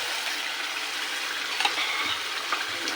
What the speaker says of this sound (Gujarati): હવે આપણે એમાં ચણા હતા બાફેલા આપણા તે નાખી દઈશું.